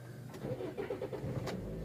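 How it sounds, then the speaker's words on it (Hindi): A car engine cranks and catches, a short mid-pitched starter churn settling into a running idle, close and fairly quiet, recorded during electric power steering calibration. "गाड़ी हमने स्टार्ट कर दिया"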